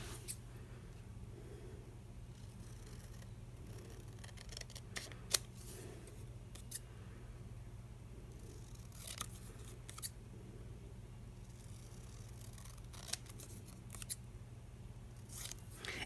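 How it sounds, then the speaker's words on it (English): Scissors cut a paper template for a budget journal spread, with quiet snips and crisp clicks scattered irregularly over a soft, low background hum. "draw around it, and then cut it out if you haven't misplaced your scissors."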